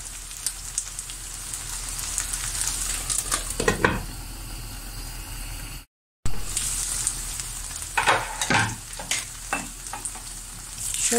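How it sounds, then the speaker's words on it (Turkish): Rice and spices roasting in a pan for stuffed vine leaves, a steady crackling sizzle with scraping stirs and spoon knocks, close and loud, briefly cut to silence midway. "Şöyle bunlar da burada kavrulsun."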